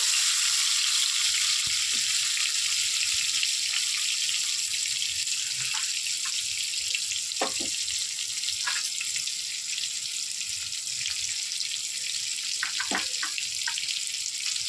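Chopped tomato frying in hot oil, a constant hissing sizzle with sporadic spatters and light clinks of a utensil, near and moderately quiet, no voices over it.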